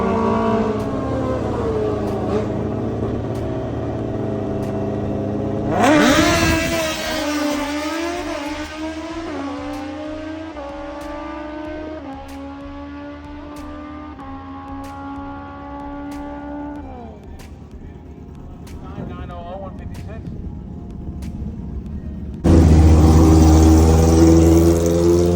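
A Super Stock racing motorcycle engine revs loudly and climbs through rising gear pitches, then fades off into the distance before a sudden loud burst near the end, with no talk.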